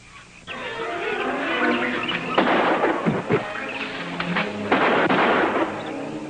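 Pistol gunshots in an adventure film scene: several sharp, loud cracks ring out in the middle of the clip over a dense, continuous background of score and ambience.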